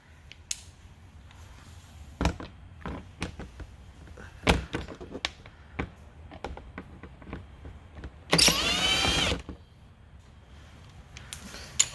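A power tool briefly whirs for about a second, backing out 8 mm bolts that hold the fender liner on a Mercedes S550 S-Class. Scattered clicks and knocks from handling parts surround it.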